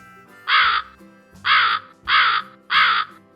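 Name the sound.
crow cawing, played recording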